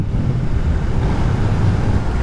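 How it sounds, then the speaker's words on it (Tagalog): Strong wind roars and buffets the microphone during a motorcycle ride on a Raider 150 FI, a continuous low rumble, loud and unbroken, with no voices. "Napakalakas ng hangin."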